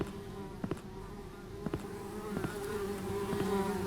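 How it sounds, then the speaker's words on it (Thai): Flies buzz close by in a room in The Thirteenth Floor horror video game, a continuous drone with several sharper passes as individual insects zip near. "แมลงวัน"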